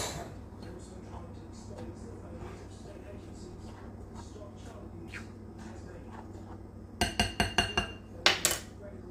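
Rhubarb cake batter gets mixed in a bowl, soft stirring at first, then a quick burst of sharp clinks and taps of a utensil against the bowl near the end, with a voice speaking briefly.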